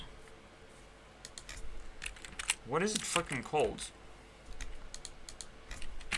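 Clicky computer keyboard typing in scattered bursts, close and clear, interrupted midway by someone speaking over the keys before the tapping resumes.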